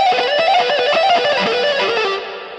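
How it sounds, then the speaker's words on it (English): An electric guitar played with an EBow through distortion gives a dense, buzzing sustained tone with rapid fluttering pulses, fading slightly toward the end. "Using distortion with the EBow yields interesting results."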